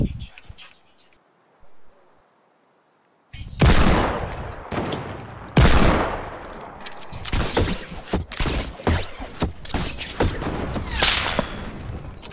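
Gunfire in the Fortnite video game: sharp, loud shots and rapid bursts crack repeatedly after a quiet start, some in quick volleys, with no talking.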